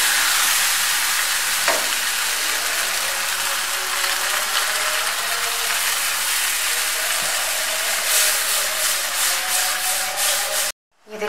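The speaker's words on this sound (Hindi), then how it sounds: "हाथ में चम्मच चलाते रहना ताकि जो है ना" Spoon scraping and stirring steadily through a white sauce of flour, milk and butter in a cooking pan, a continuous close rubbing texture with no talk, cutting off abruptly near the end.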